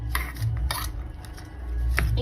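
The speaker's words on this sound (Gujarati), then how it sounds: "હવે આપણે મેયોનીઝ એડ કરી દઈશું અને સારી રીતના આપણે મિક્સ કરી દઈશું" A spoon scrapes and clinks against a bowl while mayonnaise is mixed into a bread roll stuffing, giving several sharp taps and short scrapes close by.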